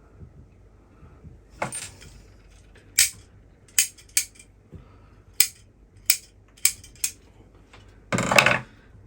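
Sharp metallic snips from scissors trimming a juniper nursery-stock bonsai, roughly eight separate crisp cuts at irregular intervals, fairly close, ending in a longer rustling burst of foliage.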